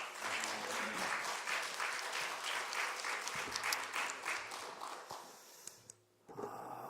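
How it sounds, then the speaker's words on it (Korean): A church congregation at a 2018 deacons' seminar applauds together, producing steady dense clapping for about five seconds that fades into quiet before faint room sounds return. "우리 박수로 영광 돌리겠습니다"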